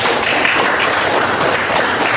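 A class of students claps together in a classroom, a dense, steady patter of many hands close by, with no talking over it.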